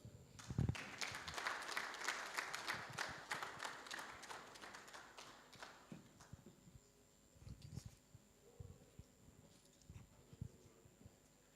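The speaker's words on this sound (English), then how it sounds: "Let's give another loud applause" Dense, sustained clapping from a conference audience, loud at first and tapering off after a few seconds into scattered claps and faint background noise.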